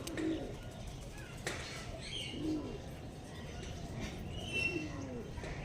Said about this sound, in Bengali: পুরো পর ছেড়ে খুলে উড়ার চেষ্টা করছে পায়রাগুলো এখন